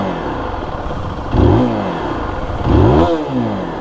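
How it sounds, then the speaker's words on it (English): Zontes GK350 single-cylinder café racer motorcycle revving loudly and close, idling between two sharp throttle blips that rise and fall with a rough exhaust note. "Let's hear the exhaust note."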